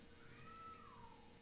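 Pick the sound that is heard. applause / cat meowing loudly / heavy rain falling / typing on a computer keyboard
cat meowing loudly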